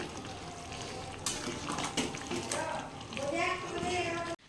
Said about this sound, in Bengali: এই আলুগুলো দিয়ে দিব তাহলে এখন আলুর সাথে আলুটাও সেদ্ধ হয়ে যাবে আর চিকেনটাও বেশ কষানো হয়ে যাবে